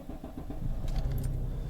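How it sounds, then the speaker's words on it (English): A Peugeot 407 Coupe V6 engine catches and settles into a low, steady idle after a brief rattle of keys, with light clicking above the rumble. "So the car starts now."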